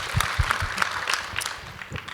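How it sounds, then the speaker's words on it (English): Audience applause at a women's panel at the Santa Barbara International Film Festival, a short burst of scattered claps from a modest crowd, close and moderately loud. "that deserves applause"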